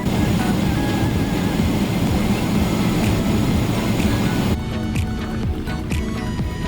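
A dense, steady roar of jet engines fills the business-class cabin as an ANA airliner takes off from New York JFK at night, easing slightly toward the end.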